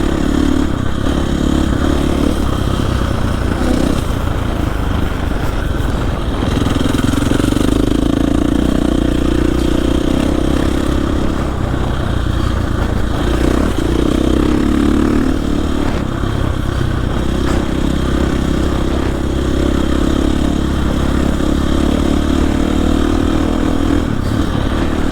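A dirt bike rides off-road through wooded trails in central Maine, its mid-pitched engine droning steadily and rising and falling with throttle changes for the whole stretch, close and loud with no talk.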